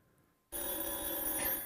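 A telephone in a studio starts ringing abruptly after a brief silence. Its bright, steady bell continues loud and unbroken to the end, with no voices.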